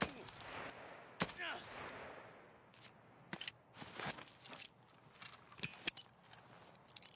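Gunfire in a shooter video game comes as scattered sharp shots and short bursts, fairly quiet, with a faint beeping tone and some talking in the background.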